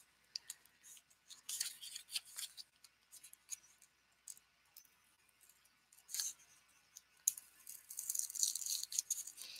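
Scissors snip through a paper monthly template in a quiet room, giving a run of short crisp cuts with rustling paper in between and a denser burst of cutting near the end, with no talk.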